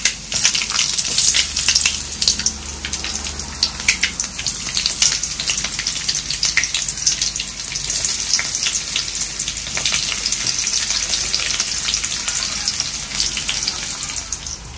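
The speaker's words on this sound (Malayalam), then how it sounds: "എണ്ണ ചൂടാക്കിയപ്പോൾ കടുക് ഇട്ട് കൊടുക്കാം" Mustard seeds and chopped shallots crackle and spit loudly in hot coconut oil, a dense, continuous frying hiss with constant tiny pops, close up and without any voices.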